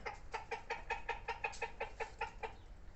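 A rooster clucks in a quick, steady series of short, bright calls, close by, with faint background hum and no talking.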